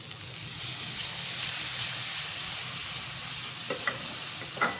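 Onions, spices, tomatoes and green chillies fry for aloo gobi with a steady close sizzle and hiss, and a few faint stirring clinks come toward the end.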